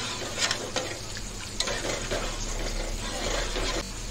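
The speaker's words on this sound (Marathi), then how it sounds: "मसाला पाण्यामध्ये सर्व चांगला मिक्स करून घेऊया।" Masala and water are stirred together in a hot pan for a surmai fish curry, making a steady bubbling sizzle with a few light spoon clinks against the pan.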